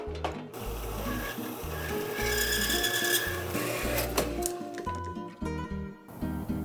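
Metal being cut off the mounting end of a linear actuator, a loud grinding, ratcheting rasp with repeated rhythmic strokes that runs steadily for several seconds and then pauses briefly.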